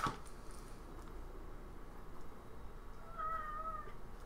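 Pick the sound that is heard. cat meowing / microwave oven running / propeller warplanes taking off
cat meowing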